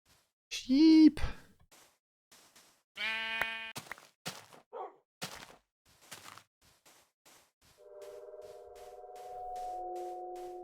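Sheep bleat heard as a sharp wavering call right at the start, then a second buzzy bleat a few seconds later, with quiet clicks and a steady electronic tone following.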